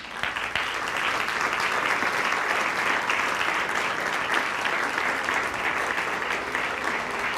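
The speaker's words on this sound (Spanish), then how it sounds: "Damos un aplauso a Dios." Congregation applause at a church service, a dense, steady wash of many hands clapping that fills the whole stretch at an even level with no talk over it.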